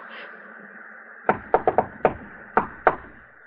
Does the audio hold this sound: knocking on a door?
yes